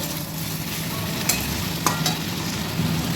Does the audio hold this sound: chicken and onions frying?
yes